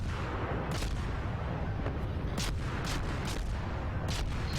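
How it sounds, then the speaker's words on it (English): Warship guns fire in World of Warships naval combat, several sharp booming reports spaced irregularly over a constant loud rumble of sea and engine noise. "Scored like 30 hits on this guy, and I'm not the only one shooting at him."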